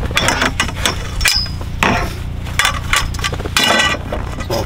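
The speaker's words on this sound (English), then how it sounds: "here's all the pieces for the snow rake" Metal pieces of a snow rake clank and knock together as they are handled, a series of sharp close clinks and rattles in quick irregular succession.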